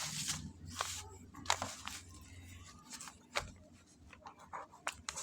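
A pen scratches numbers onto paper in short, quiet strokes with small pauses between them, close and soft against a low background hum.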